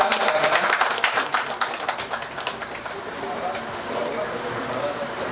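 A gathering claps at a birthday felicitation event, a burst of scattered hand claps for the first couple of seconds that fades as crowd chatter and talk take over.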